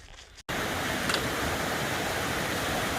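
A stream rushes beside a hiking trail, a loud, steady broadband wash of flowing water that cuts in abruptly after a brief quieter moment and continues unbroken.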